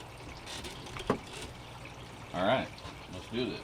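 Water runs through a SluiceBoy sluice box in a quiet, steady trickle and pour, with someone briefly talking over it.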